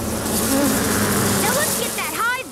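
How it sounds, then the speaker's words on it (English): Cartoon bees buzz in a busy swarm, wavering whines rising and falling over a steady drone, with quick swooping buzzes near the end; fairly close and continuous, under a light bed of other animated-show sound. "Way to lure the bees out, Skye."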